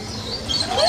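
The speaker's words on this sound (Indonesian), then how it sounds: "Tuh ada burung-burung tuh." Small birds give a few short, thin chirps and rising tweets outdoors near a villa, faint against low background noise.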